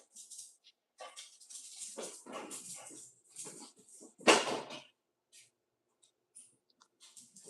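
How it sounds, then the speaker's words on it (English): A puppy barks and whimpers for attention in short, scattered yelps and bursts, with one louder bark standing out among quieter clicks and pauses in a quiet room. "my puppy is barking because she wants my attention"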